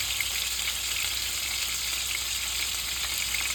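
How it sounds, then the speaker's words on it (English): The last batch of beef meatballs fries in a pot of oil, giving a steady, even sizzle close up with no talking. "this is the last batch of the meatball. It's fried."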